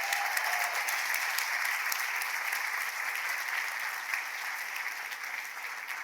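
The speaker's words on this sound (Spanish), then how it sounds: "Un aplauso para Gertrudis" Steady applause from a church congregation for Gertrudis, a great-great-grandmother receiving a prize, dense and even clapping throughout at moderate distance, slowly tapering.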